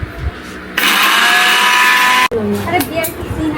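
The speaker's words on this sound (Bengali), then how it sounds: "গোলাপ ফুলের পাপড়ি সব নিয়ে বসা হয়েছে এখন সুন্দর করে ব্লেন্ড করা হবে" An electric blender whirs loudly as it blends rose petals, a steady high-pitched roar of about a second and a half that starts and stops abruptly, with people talking nearby before and after.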